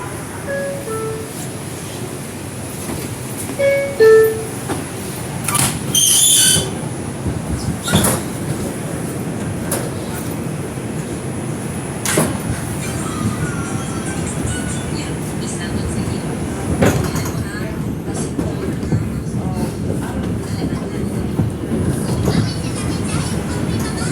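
An R142 4 express subway train rides through the Bronx toward Manhattan, with a loud, steady rumble of wheels on track, occasional squeals and knocks, and brief door or car noises throughout.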